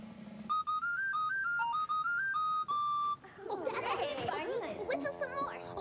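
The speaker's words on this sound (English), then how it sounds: "Goody, a whistle. Let's see if I can blow a tune." A shrill captain's whistle blows a simple stepping tune of short and held notes, then gives way to a burst of excited, overlapping vocal sounds.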